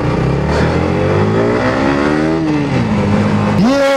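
A Yamaha R15 V4 motorcycle in black wrap revs its exhaust steadily, the engine note climbing and dipping before a sharp rise in pitch near the end, loud and close with no voices over it.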